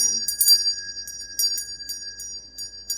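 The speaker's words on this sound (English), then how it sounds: "I just go all around the area and I do 3 bells because it's a different frequency" Loud metal bell topped with an eagle being rung, with a bright, sustained high ringing and several repeated strikes over a few seconds, close to the listener.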